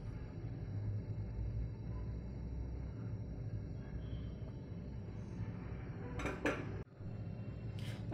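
Homemade ayurvedic vapour rub being transferred into a washed container, with light metallic clinks and scrapes of utensils against the vessel over a steady low background hum, a couple of brief sharper clatters near the end.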